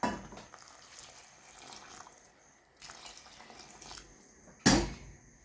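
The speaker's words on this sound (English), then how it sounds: "At this point, I'm going to add the water." Water poured into a cooking pot of Kenyan beef pilau, a steady splashing pour close by with a sharp louder gush near the end.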